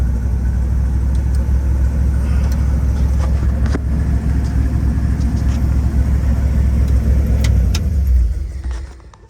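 A 1963 Ford F250 truck's engine runs while driving: a loud, steady low rumble with road noise that holds throughout, then fades away in the last second. No one speaks.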